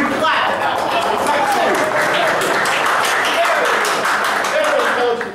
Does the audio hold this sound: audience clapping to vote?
yes